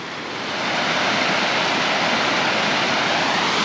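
Bear Creek rushes at a trail crossing in a steady, loud broadband wash of flowing water, close to the microphone, swelling in the first half second and then holding even with no voices.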